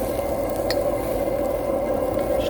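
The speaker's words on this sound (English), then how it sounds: "Just keep on sauteing it." Vegetables sauté in a hot pan for roast pork wide wheat noodles, giving a steady, close sizzle with faint stirring clicks.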